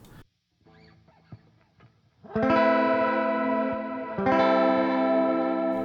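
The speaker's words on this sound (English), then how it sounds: "let's see what this chorus sounds like" After a few quiet plucked notes, loud electric guitar chords swell in with a wavering, shimmering chorus texture, then a second chord rings on.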